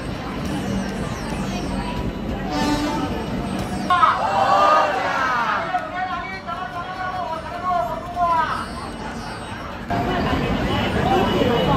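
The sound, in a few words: crowd chattering at station as packed Konkan Kanya train arrives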